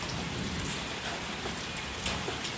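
Heavy rain pours steadily on a mountain trip near Sumbawa, a loud, dense, continuous hiss of drops drumming on surfaces with no break.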